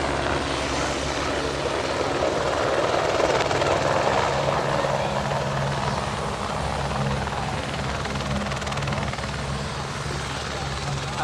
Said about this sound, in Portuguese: Aqui já pousaram dois helicópteros já ao mesmo tempo